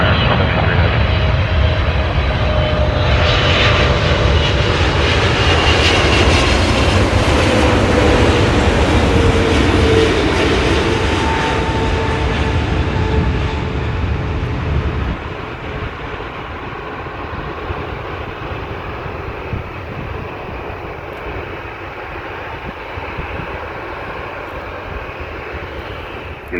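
A heavy airliner comes in to land at Sydney Airport, its loud jet roar sweeping past and holding strong before easing into a lower, steadier rumble as it slows on the runway.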